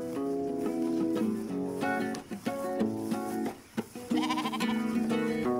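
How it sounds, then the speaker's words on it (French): Ewes from a flock in the Baronnies provençales regional nature park bleat in a chorus of overlapping calls, several voices close and loud with brief pauses between them. "Des brebis élevées avec amour"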